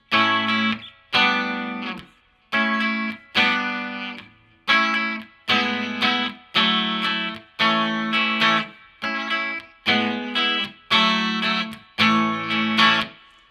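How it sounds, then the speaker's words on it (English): A Telecaster electric guitar on its bridge pickup plays about a dozen bright, ringing chords in a steady rhythm, each struck cleanly and left to decay before the next, up close and alone. "We'll start with the bridge pickup and give you an idea of what you'd expect to hear in a Tele."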